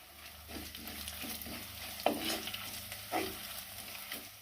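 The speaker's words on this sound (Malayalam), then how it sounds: "ഒരു സ്പൂൺ ഇഞ്ചി ചതച്ച് വെച്ചിട്ടുണ്ട് അതുകൂടി അങ്ങോട്ട് ഇട്ട് കൊടുക്കാം ഇനി ഒരു തണ്ട് കറിവേപ്പിലയും കൂടെ അങ്ങോട്ട് ഇട്ട് കൊടുക്കാം" Crushed ginger and curry leaves frying in a pan for a Kerala fish curry, a soft steady sizzle with occasional spatula scrapes and taps, close but fairly quiet.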